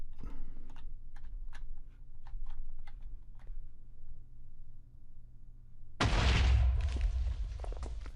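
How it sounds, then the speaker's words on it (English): A loud, booming blast erupts in Minecraft partway through, following a stretch of quiet computer keyboard typing and clicking over a low background hum. "ignore the explosions"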